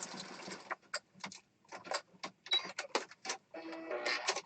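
A sewing machine stitches around the edge of a springtime fairy junk journal page, running in short, close mechanical bursts separated by brief pauses, with no talking.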